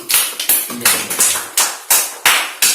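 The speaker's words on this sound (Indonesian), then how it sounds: "kita berikan aplaus" A small group gives short applause in a classroom, a handful of sharp hand claps in an uneven run, close and loud with no talking.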